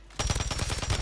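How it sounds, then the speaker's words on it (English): A rapid burst of gunfire in Warzone 3, loud sharp reports repeating quickly for about a second with no talk. "this guy shot me once and insta-killed me"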